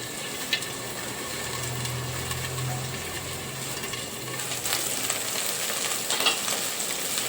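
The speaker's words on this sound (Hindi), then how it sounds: "प्याज और लहसुन के जो पेस्ट हैं वो पक रहे हैं।" Onion and garlic paste frying in a partly covered pan for a Dahi Baigan (brinjal curry in curd) dish, giving a steady close sizzle and crackle throughout with no talk.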